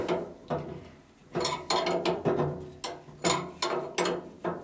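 Two wrenches tighten a threaded fitting on the oil pump of a Sunnen hone machine, giving a run of repeated metallic ratcheting scrapes and clanks in uneven bursts, close and fairly loud, with no talking.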